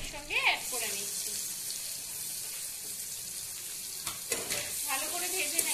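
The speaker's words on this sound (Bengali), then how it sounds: "এবার কিছুটা কুচিয়ে রাখা পেঁয়াজ আর কিছুটা থেঁতো বড়া রসুন আমি এর সঙ্গে অ্যাড করে নিচ্ছি" Chopped onion and crushed garlic fry in hot oil with a steady, bright sizzle throughout, while a voice speaks briefly at the start and again near the end.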